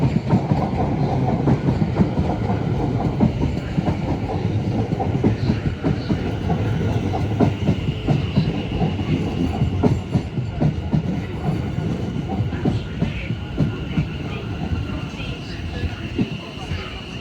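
A Class 701 electric train, unit 701 014 on a Waterloo to Dorking service, runs through Clapham Junction with a loud continuous rumble and rhythmic clickety-clack of wheels over rail joints, while someone talks over it.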